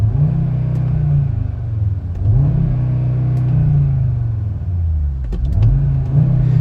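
An Audi RS3 engine revs with its exhaust flaps fully open, giving a loud, close, deep rumble that climbs and falls in repeated rev cycles with no talking.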